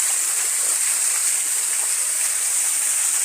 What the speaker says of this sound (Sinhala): මේක තමයි ඉතින් ඇල්ල.